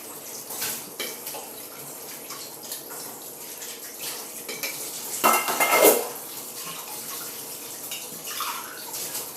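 Dishes and cutlery clatter and clink under running tap water while being washed in a kitchen sink, with a louder burst of rattling and splashing partway through.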